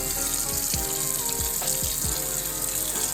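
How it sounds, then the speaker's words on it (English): Water from a tap runs steadily as a ghost shark (ratfish) is rinsed under it, a close, continuous splashing with occasional thumps and handling knocks. "Let's go ahead and just give it a quick little rinse."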